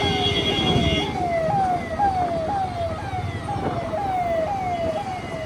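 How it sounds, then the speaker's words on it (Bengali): An ambulance siren wails nearby in a fast, repeating rising-and-falling pattern, loud and continuous over the rumble of road traffic. "অ্যাম্বুলেন্সটা বেরোচ্ছে।"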